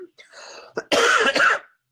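One short, rough cough comes up close after a brief throaty rasp, then stops.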